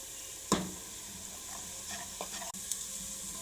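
White cumin seeds dropped into hot oil with golden-brown onions for a Pakistani red kidney bean curry, a sharp burst of sizzling followed by a steady crackle and a few stirring clicks, close up.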